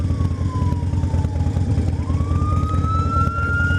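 An ambulance siren wails with a slow falling then rising pitch, heard from a motorcycle over a steady low engine rumble and road noise.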